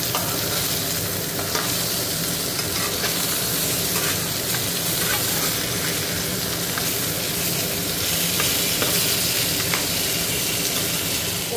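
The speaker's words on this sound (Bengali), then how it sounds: "মাছটা ভাজা হয়ে যাক।" Fish fries in a pan with a loud, continuous, close-up sizzle and crackle, steady from start to finish with no talking.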